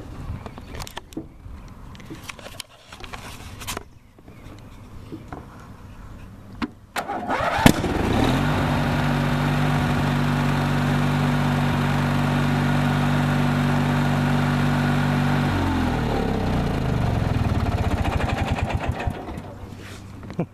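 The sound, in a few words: lawn tractor engine starting, idling and backfiring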